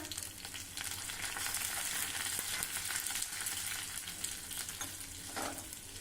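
Crushed garlic and dried red chillies fry in hot oil with a steady, soft sizzle and crackle, broken by a few stirring scrapes, no talk over it.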